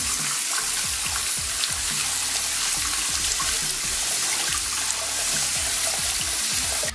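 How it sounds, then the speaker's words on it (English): Warm water runs steadily from a bathroom tap into a sink, a loud, close, continuous splashing rush with no talk over it. "It's warm water."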